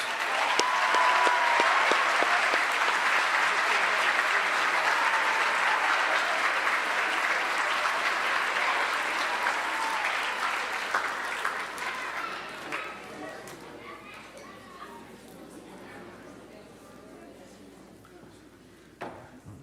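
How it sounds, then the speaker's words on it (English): An audience at a junior high school awards ceremony applauds students who completed a program, with dense, steady clapping that gradually thins and fades out, leaving scattered claps and faint room noise. "we'd like to give you a round of applause"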